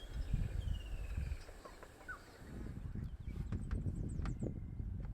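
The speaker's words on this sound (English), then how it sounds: "You can also hear a woodland kingfisher in the background calling here." A woodland kingfisher calls faintly in the background of a bush soundscape, with a thin descending trill standing out over rustling and other scattered bird notes.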